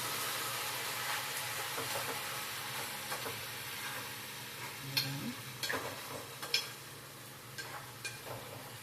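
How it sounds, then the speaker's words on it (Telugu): Fish stirred into a cooking pan, a faint sizzle under scattered spoon scrapes and clinks that grow more frequent in the second half, moderately close with no talk. "చేపలు వేసి బాగా కలుపుకోవాలి."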